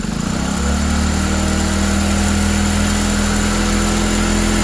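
A Hero Splendor Plus motorcycle engine runs steadily and close by after a full service with fresh oil, idling with an even, loud thrum that holds for several seconds without speech.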